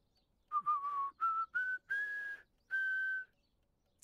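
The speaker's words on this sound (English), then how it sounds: "A merry little tune, I'm assuming." A video game character whistles a merry tune in Torn Away, six clear rising and falling phrases, the last held longest, close and alone with no talking.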